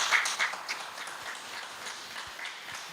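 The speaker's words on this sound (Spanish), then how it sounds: "Denle un fuerte aplauso al Señor para que no se duerma." A church congregation claps together during a sermon, a dense steady patter of many hands at moderate distance that tapers slightly over a few seconds.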